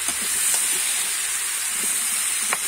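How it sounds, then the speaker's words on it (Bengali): Jackfruit for a jackfruit-and-prawn dish stir-frying in a pan, giving a steady loud sizzling hiss throughout with a few faint scraping stirs, and no voices. "আমি এঁচোড়টা ভালো করে নেড়ে চেড়ে ভেজে নেব।"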